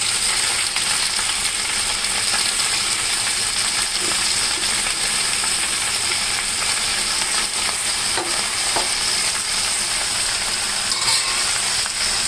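Gongura leaves frying in a small amount of oil in a pan, giving a steady, loud, continuous sizzle with faint stirring scrapes and no talk.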